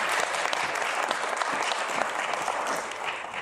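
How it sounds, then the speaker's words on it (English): An audience at a live public address in Vancouver applauds: steady, dense clapping throughout, fairly close and unbroken, tapering only slightly at the end. "I think we should applaud for that."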